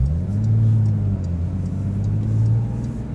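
Porsche GT3 with Manthey Racing parts held near redline, a loud, steady engine drone with strong low harmonics that holds high for about three seconds, cabin rumble underneath.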